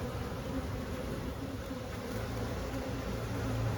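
Honeybees buzzing steadily around an open hive frame that holds brood, a dense, continuous drone close by with no voices over it.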